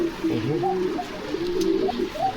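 Pigeons of improved breeds at a pigeon farm in Bogura, Bangladesh, coo close by in soft, repeated, throaty phrases over a low background murmur.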